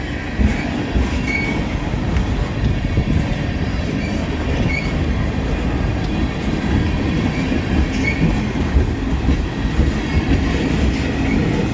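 A CN freight train carrying mixed freight rolls past on the tracks, a loud continuous rumble with rhythmic wheel clatter and faint squeals that stays close throughout.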